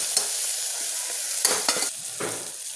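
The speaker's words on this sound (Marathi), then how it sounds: "त्याची जरा तेल सुटेपर्यंत भाजून घेऊया." Spice masala with grated fresh coconut roasting in oil, a close bright sizzle with several quick scraping stirs of a spoon through the paste.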